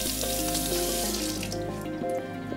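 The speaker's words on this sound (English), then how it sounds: "It's recommended to remove blood and tissue remnants shortly after use by rinsing with warm water and a soft brush or gauze." Warm tap water runs steadily into a sink while a surgical dermatome is rinsed clean of blood and tissue, a continuous hiss and splash with faint clinks under it.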